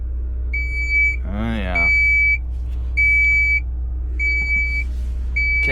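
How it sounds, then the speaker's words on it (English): Inside the cab of a Caterpillar 966K wheel loader, a shrill warning alarm beeps in regular long tones over a low engine hum, with someone briefly talking between beeps. "that beeping is gonna drive me crazy too"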